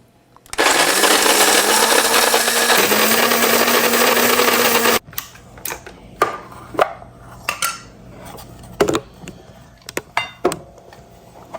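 A Secura electric coffee grinder whirs loudly through coffee beans for about four seconds, its pitch stepping up midway, then cuts off, followed by scattered clinks and taps of handling the parts.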